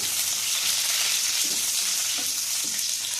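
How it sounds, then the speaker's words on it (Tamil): Garlic frying lightly in oil, a steady bright sizzle holding evenly throughout with a few soft stirring knocks near the end, close up and without any talk. "இந்த பூண்டு எண்ணெயிலே லைட்டாக ஃப்ரை ஆச்சுன்னா ஸ்மெல் நல்லாயிருக்கும்"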